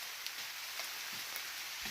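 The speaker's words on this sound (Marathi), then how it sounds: "मोठाच पाऊस यायला सुरुवात झाली आहे." Heavy rain begins falling in the Konkan countryside near mango trees, a soft, steady hiss with a few scattered louder drops, fairly faint and with no voices.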